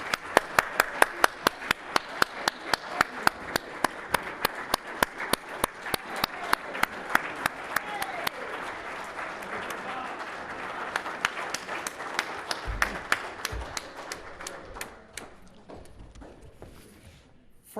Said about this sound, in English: I think she needs a great round of applause